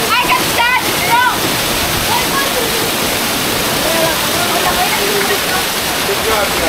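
Rushing waterfall water in Igbaras, Iloilo, Philippines pours and splashes continuously and loudly, with children's voices and shouts briefly audible over it at the start.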